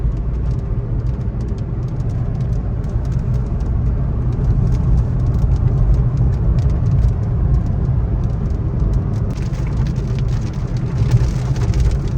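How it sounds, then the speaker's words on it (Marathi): Steady rain drumming on a surface alongside a low engine rumble, continuous and fairly loud, with no voices. "पाऊस आलेला आहे"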